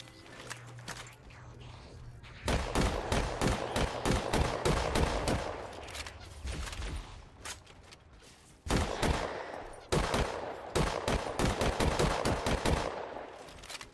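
Halo 4 combat with a grenade launcher and gunfire, bursts of rapid sharp shots in clustered volleys with brief pauses between, loud and close, interspersed with heavier thumps and no talk.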